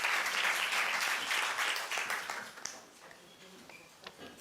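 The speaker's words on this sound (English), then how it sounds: "another round of applause for you" An audience at a youth energy forum gives a round of applause after final presentations, a dense clapping that tapers off over a few seconds as a voice begins speaking.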